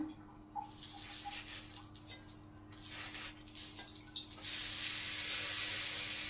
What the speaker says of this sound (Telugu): సో ఇప్పుడు మనం ఏం చేయాలంటే కొంచెం వాటర్ యాడ్ చేయాలి ఫ్రెండ్స్